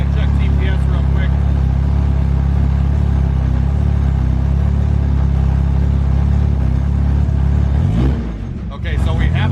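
A K20-engined car revs loudly up close with a deep, throbbing rumble, then the engine note drops and shifts near the end, while people talk over it.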